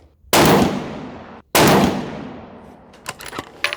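Two loud close shots from a 6.5 Creedmoor RPR rifle with a new 24-inch Krieger barrel at a shooting range, each a sharp blast with a long decaying echo, followed by faint clicks and handling sounds.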